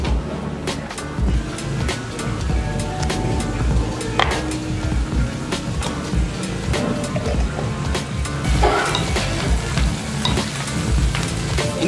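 Sambal frying in a pan at home with steady loud sizzling, while a utensil stirs and scrapes against the pan in frequent clicks, close and continuous.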